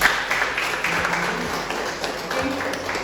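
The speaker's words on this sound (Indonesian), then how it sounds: "Tepuk tangan untuk kelompok." Applause for a small group in a teaching session runs steadily for about three seconds, a dense patter of hand claps at moderate level with faint voices underneath.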